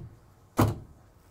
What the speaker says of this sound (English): I can open these doors.